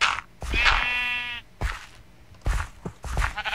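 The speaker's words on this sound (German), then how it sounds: "Ich bin mit meinen Schafen." Sheep in Minecraft bleating in a quick series of short, close cries, one drawn-out wavering bleat among them, with brief pauses and soft thuds between.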